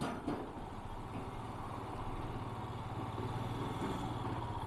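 A motorcycle engine hums steadily at low volume while riding slowly across an army-built iron bridge in Ladakh, an even droning rumble with no speech.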